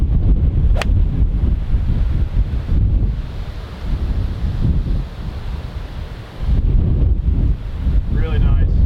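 Strong east wind on a golf course buffets the microphone in heavy, roaring gusts that rise and fall, nearly drowning a faint voice, with a brief sharp tick early on.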